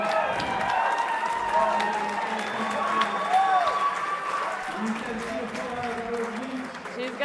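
Crowd at a bouldering competition finals cheering and applauding continuously, a loud sustained roar with whistles and shouts, commentators talking over it throughout.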